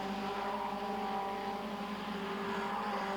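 Distant Caterham Vauxhall racing car engines at Donington Park in 1997, droning steadily, a continuous high whine that swells slightly as the cars pass, no voices.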